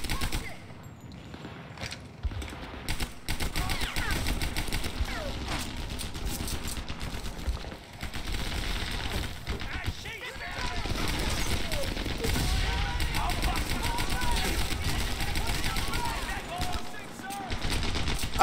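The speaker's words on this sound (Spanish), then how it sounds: "Tiene una ametralladora ya." Machine gun fire in the World War II shooter Medal of Honor Airborne, a sustained run of dense, rapid bursts mixed with other battle noise, with someone talking over the gunfire in places.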